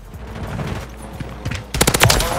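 A gun firing in Call of Duty Modern Warfare 3: a run of rapid automatic shots at first, then a louder, denser burst near the end, close and punchy.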